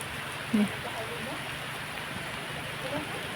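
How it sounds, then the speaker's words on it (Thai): Rain falls steadily as a soft, faint hiss while someone shelters under a temple gateway, with someone talking over it. "ฝนตกนะคะเราก็หลบฝนนะคะอยู่ ซุ้มประตูนะคะ"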